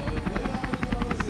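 A helicopter filming over the race village of the Migdal Epic Israel 2019 mountain bike race makes a steady, rapid rotor thumping with a droning engine beneath it.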